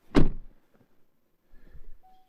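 A Chevrolet Trailblazer door slams shut with the window partly open, giving one sharp thunk followed by a faint rattling buzz and a short tail of settling noise.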